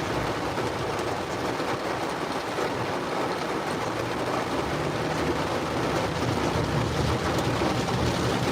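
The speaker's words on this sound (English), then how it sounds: "I'm thinking we can get through this rain." Heavy rain pounding a vehicle while driving through a supercell storm in the Ozarks, a dense steady roar of rain and road noise with a low rumble underneath, continuous and close.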